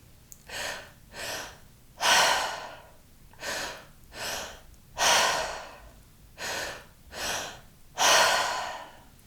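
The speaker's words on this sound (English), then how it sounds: "So breathing down into the belly, up into the chest, exhaling to let go." Guided breathwork exercise of deep breaths drawn into the belly then up into the chest and let out: nine clear, close airy breath sounds in a steady rhythm, short inhales alternating with longer, louder exhales, heard alone without talk.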